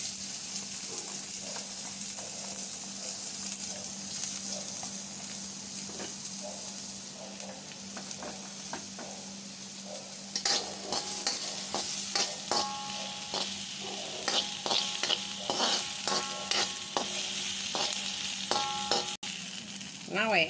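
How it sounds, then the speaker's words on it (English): Chopped onions hitting about a tablespoon of hot oil for chili con carne, a constant sizzle that grows busier and crackly midway, with clattering stirs and utensil taps up close and no talking. "I'll put in the chopped onions."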